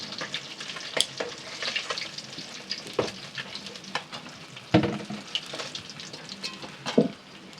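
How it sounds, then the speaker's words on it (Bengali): Fish frying in a wok for an Indian home-cooked dish, a steady crackling sizzle punctuated by sharper spitting pops and occasional stirring knocks, close and with no voices. "মাছ ভাজা হয়ে গেছে"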